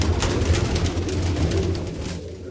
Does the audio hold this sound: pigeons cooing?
yes